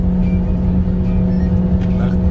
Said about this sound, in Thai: เราสามารถโยกลงครับ เวลาเร่งแซง5 หรือ 4 ครับนี่ครับปูดเลยครับ